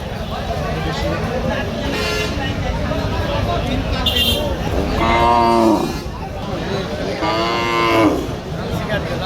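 Cattle moo loudly nearby at the Tilakpur cattle market, two long, deep calls rising over a busy outdoor crowd with people talking and a horn sounding.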